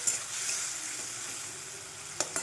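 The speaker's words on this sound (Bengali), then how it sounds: "এবার মশলাটা দিয়ে কষবো সব রকম।" Ground onion and chilli spice paste fries with capsicum for an egg dish, a soft steady sizzle in oil with a couple of sharp stirring clinks near the end.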